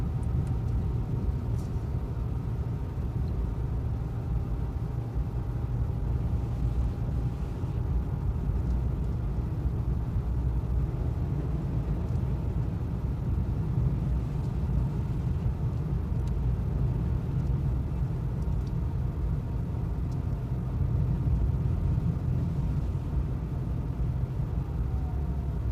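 Cars on a snowy Big Bear road give a continuous low rumble of engines and tires, a dense steady drone with no clear single pass-bys, and no talking.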